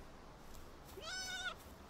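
A cat-like Pal creature in the Palworld video game gives one short, rising-then-falling bleating cry. The cry is faint and stands alone over quiet background game sound.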